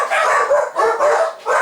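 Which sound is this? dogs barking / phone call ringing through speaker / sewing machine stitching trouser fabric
dogs barking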